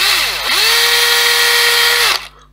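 A power drill with a small 1.2 mm bit bores holes while a C128 computer is assembled, its motor whining steadily and loud for about two seconds before spinning down.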